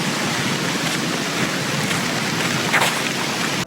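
Steady rain falls during a morning walk outdoors, a dense, even hiss of drops that stays loud and constant without speech.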